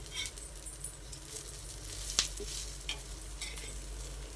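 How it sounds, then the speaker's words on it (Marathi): Stuffed green chillies frying in oil in a pan, giving a steady close sizzle with light stirring scrapes and a few small crackles. "अशाच प्रकारे आपण सगळे सगळ्या मिरच्या फ्राय करून घेऊयात"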